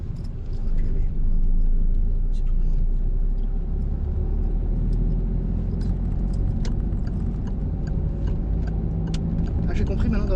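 A car engine hums and rumbles steadily at moderate speed as the driver accelerates and shifts into third gear, a low continuous drone with faint rattles while voices talk over it.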